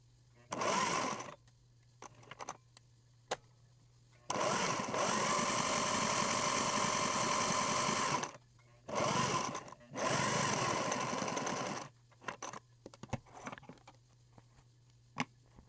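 A Singer 403A sewing machine sews a blind stitch in several bursts of rapid mechanical whirring, with quiet pauses and small clicks between the runs.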